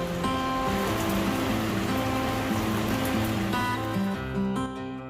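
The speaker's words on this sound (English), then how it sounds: "totally raining outside." Rain falling outside makes a steady, dense hiss that runs without a break, with a faint tonal hum underneath.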